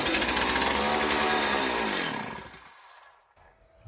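A Stihl 038AV chainsaw, held by hand with its top cover removed during a repair, fires up loudly for about two seconds with a buzzing two-stroke roar, then dies and falls silent with faint sputters after.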